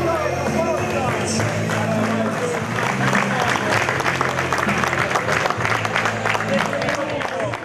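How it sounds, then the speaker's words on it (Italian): Loud, continuous clapping from a crowd honoring the winning team at an Italian team bocce championship, with voices and chatter mixed in throughout. "Saltara, un applauso ragazzi."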